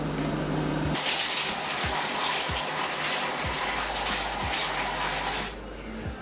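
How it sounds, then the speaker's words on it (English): Tap water runs steadily and fairly loud while dye is shampooed out of wig hair at a sink, with a continuous gushing hiss and a few low knocks underneath. "Me trying to shampoo out the color I got on the hair."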